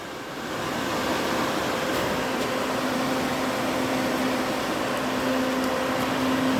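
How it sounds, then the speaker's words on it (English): A Honda Integra's electric radiator fan runs steadily, a loud, even rushing whoosh of air with a faint motor hum, continuous after a short rise at the start, no talk. "there's the fan doing its job again, blowing nice cold air"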